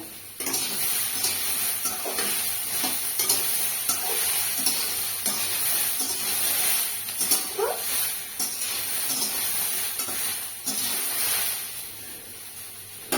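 Ivy gourd (kundri) frying in oil in a kadai, a steady loud sizzle with scraping stirs and occasional clinks of a utensil against the pan, no talking.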